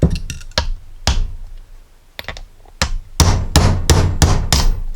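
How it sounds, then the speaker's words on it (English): A hammer drives a socket to pound out the input shaft bearing of a Jeep Saginaw steering gear box, giving loud, close metallic blows, first scattered and then a steady run of heavy strikes. "So I'm going to find a socket or something and line that up and pound it out."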